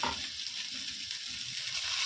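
Ponnaganti leaves sizzling in a pan of browned onions, a continuous close hiss of frying with faint stirring scrapes underneath, steady and unbroken for a couple of seconds.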